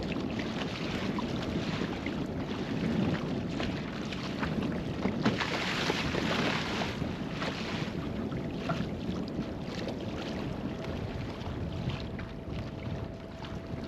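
A Newport NK180 electric motor drives a heavily loaded Hobie Outback kayak on open water toward a marina, a steady whirring drone mixed with wind and water noise throughout, no voices.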